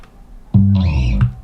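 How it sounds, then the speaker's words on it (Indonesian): A bass slide sample from Splice, one deep sliding bass tone that starts abruptly, holds with a bright buzzy upper layer for under a second, then fades, loud and alone. "Habis itu aku juga tambahin bass slide."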